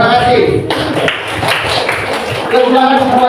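A classroom of students claps for a group after its presentation, a busy patter of hands with children's voices talking over it throughout.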